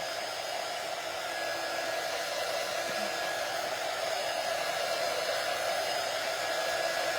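A hair dryer blows steadily on a painted brown boot, a loud continuous whooshing hiss that holds at an even level throughout, with no voices.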